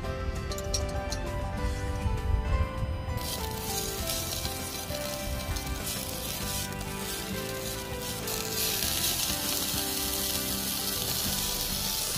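Chopped fireweed shoots frying in a frying pan: a steady, close sizzle and crackle that runs the whole time, brightening and intensifying toward the end, with no voices.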